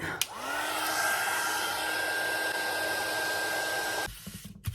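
A heat tool blows steadily for about four seconds, drying an altered 4x6 grungy journal card, with a loud, even whoosh and a constant high whine. It cuts off abruptly, leaving faint handling sounds.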